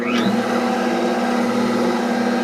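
Line hone stone cutting the bottom of a main bearing cap in a 350 engine block, giving a steady, loud grinding whir with a constant hum that runs unbroken throughout.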